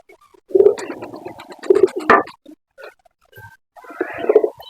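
Pigeons coo close by in a few soft, throaty bursts separated by short pauses, with a brief flutter or rustle in between.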